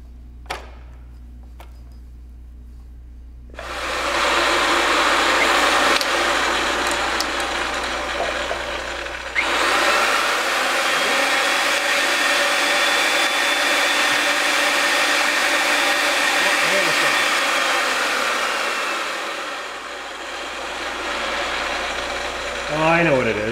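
A pipe threading machine on a construction site runs with a steady motor drone that starts abruptly, briefly drops, then resumes, while workers talk over it.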